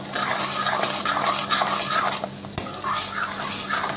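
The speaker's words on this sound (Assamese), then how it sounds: "এতিয়া বিলাহীখিনি আৰু অলপ সময় মই ভাজি ল'ম ইয়াত দি দিছোঁ 1 চামুচ মই জিৰাৰ গুড়ি আৰু ভালদৰে মিক্স কৰি ল'ম" Tomatoes and ground cumin fry in a pan while being stirred, giving a close, steady sizzle under repeated scraping and knocks of a spoon against the metal, with one sharp clank near the middle.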